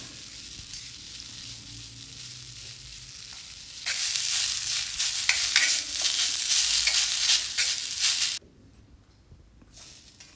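Ingredients being roasted in a pan for varutharacha chicken curry: a soft background hiss swells into loud, close sizzling with scraping stirs for several seconds, then drops away abruptly to quiet.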